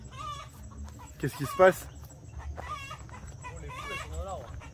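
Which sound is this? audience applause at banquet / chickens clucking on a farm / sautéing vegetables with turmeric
chickens clucking on a farm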